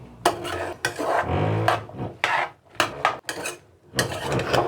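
Bottle gourd curry stirred in a pan with the tempering on a home stove: repeated scraping and rubbing strokes of a spoon against the pan, close and fairly loud, in an uneven rhythm with brief pauses.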